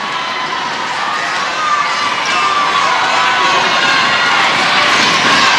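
A large crowd roars and cheers at a SEA Games netball final between Malaysia and Singapore, a loud, sustained wash of shouting voices that swells slightly partway through and holds steady.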